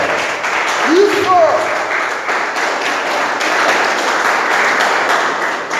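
Church congregation clapping in a steady, loud wash of many hands, with a brief raised voice calling out over the applause early on.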